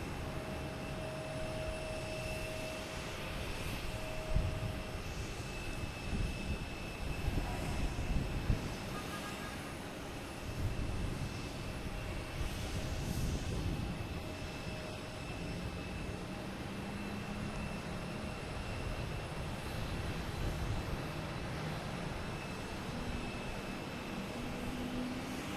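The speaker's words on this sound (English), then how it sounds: "here we have a JetBlue coming in from Savannah." A JetBlue airliner arriving from Savannah at Boston Logan Airport fills the air with a loud, continuous jet engine roar that swells and eases slightly as it passes, with no talking.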